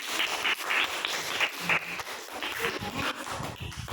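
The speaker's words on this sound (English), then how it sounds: "Applause. Clap." Children applaud together during a classroom English word game, a dense burst of quick clapping that fills the whole moment without pause, fairly loud and close.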